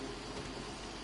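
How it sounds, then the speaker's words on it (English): Rain falling in the video game Red Dead Redemption 2, a dense steady hiss of rainfall heard alone for a brief moment. "Quit raining."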